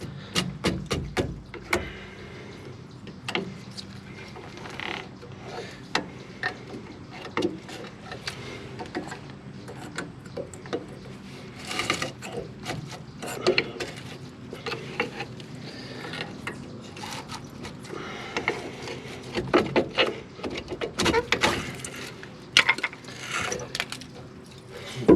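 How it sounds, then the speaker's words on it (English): Rattling and clicking of tools and metal parts as a brake caliper is removed from a 2004 GMC 2500. There are irregular close clanks, ratchet-like clicks and knocks over about twenty-five seconds, with quiet gaps between them. "Now I can remove the caliper."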